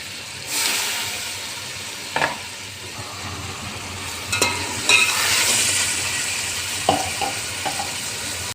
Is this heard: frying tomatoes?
yes